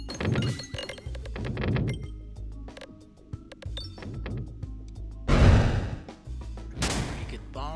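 Bombs go off in the Peglin game, several short thumping bursts with glassy clinks and a louder blast near the end, mixed over game sounds and music.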